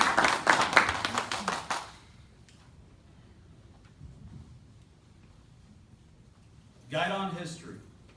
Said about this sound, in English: Please, a round of applause for this class.